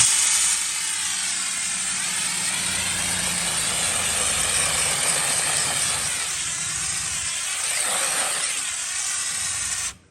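An 8-gallon-per-minute water pump runs for roof washing, giving a loud, steady mechanical drone with hiss that holds unbroken for about ten seconds before cutting off abruptly.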